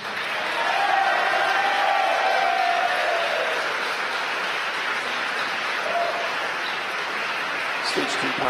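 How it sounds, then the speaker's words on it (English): Distant crowd cheering and applause swell from a room of spectators as a Falcon 9 first stage lands on a drone ship, a steady roar that fades slightly over time, under faint background voices. "You can tell by the cheering in the background."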